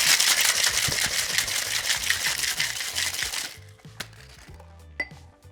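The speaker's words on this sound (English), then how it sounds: "Go, some ice cubes and shaking it up." Ice cubes rattle hard inside a cocktail shaker as it is shaken to chill a light drink made with simple syrup, a dense, rapid, loud clatter that stops abruptly, followed by a few isolated clinks and knocks.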